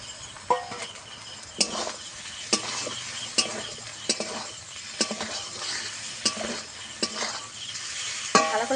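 A duck egg is stirred into spice masala frying in a pan, giving a constant sizzle broken by regular scraping and clinking strokes of the utensil against the pan, close and without talk.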